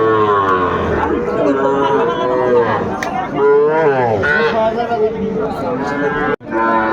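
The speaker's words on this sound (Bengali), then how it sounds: "চল আমরা একটু দেখি গরুগুলো" Sahiwal cattle moo repeatedly in long, wavering calls, close by, overlapping with chatter and voices in the background.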